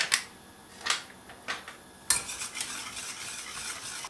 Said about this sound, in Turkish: Sütümün üzerine pudingimi ekliyorum. Güzelce muhallebi kıvamında pişireceğim.